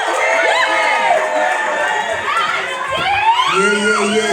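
A crowd at Zambia's 55th Independence celebration at Rayat Bahra University in India cheers and shouts loudly and steadily, with high, excited voices and whoops rising and falling throughout.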